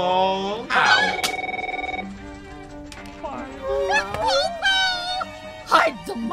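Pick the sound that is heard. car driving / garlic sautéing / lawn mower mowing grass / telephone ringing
telephone ringing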